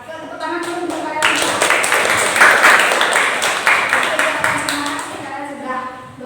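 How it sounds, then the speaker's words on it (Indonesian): Group of children in a school role-play counselling session claps together, a lively burst of applause that rises quickly, stays strong for several seconds, then fades as a voice resumes. "Yuk, tepuk tangan dulu untuk kalian."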